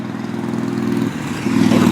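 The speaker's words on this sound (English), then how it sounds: "Motorbike." A motorbike going by on a street, its mid-pitched engine drone holding steady, dipping briefly, then coming back louder and closer, with no talking.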